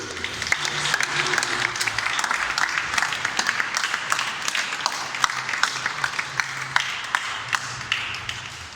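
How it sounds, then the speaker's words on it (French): A crowd at a ceremony in Forlì, Italy, honouring a returning abbé, applauds the sisters with sustained, lively clapping and some sharper individual claps, fairly loud and continuous. "il faut applaudir les sœurs"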